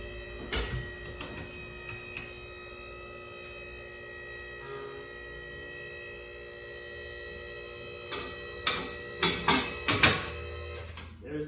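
A QuickJack BL-5000TLX car lift raises an E61 BMW wagon with a steady electric pump hum, then several sharp metallic clacks near the end as the lift reaches its locking points.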